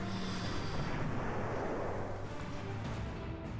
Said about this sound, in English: Alright, he's advanced in, so we're going to bomb him first.